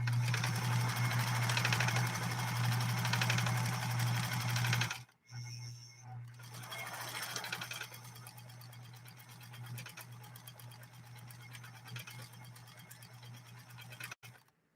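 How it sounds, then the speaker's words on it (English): A Pfaff 130-6 sewing machine stitches in a steady rapid drone for about five seconds, stops briefly, then runs again more unevenly, close and loud with no talking. "let's check this out. Take up arm all the way up"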